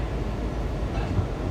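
Inside a Kawasaki 7000-series Washington Metro railcar riding toward Gallery Place–Chinatown, a loud, steady low rumble of wheels and traction fills the cabin with no voices.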